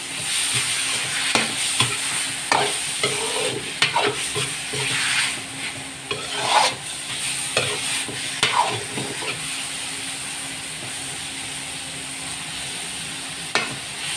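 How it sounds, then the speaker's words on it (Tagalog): Quarter kilo of meat toasting in a pan for Bicol-style pancit bato sizzles steadily up close, broken by repeated scraping and stirring strokes, with no voices. "I-toasted natin tong 1 fourth na karne natin."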